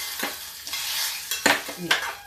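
Sharp sizzling bursts as hot oil tempering with mustard seeds and asafoetida hits peanut chutney, several crackling spurts over a couple of seconds, close and fairly loud, with no talking.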